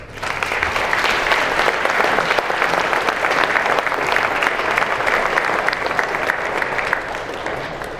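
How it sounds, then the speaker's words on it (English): Sustained applause from an audience honoring inductees at a university athletics Hall of Fame ceremony, a dense, steady clatter of many hands clapping for about seven seconds before tapering slightly at the end, with no talking over it. "If we could give them another round of applause."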